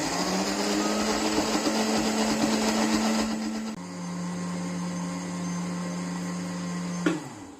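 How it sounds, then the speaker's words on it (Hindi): An electric blender whirs continuously as it mixes eggs, oil and sugar into cake batter, a loud steady motor drone that drops to a lower pitch midway before stopping abruptly, with no talking. "सारी चीजों को अच्छे से ब्लेंड कर लेंगे।"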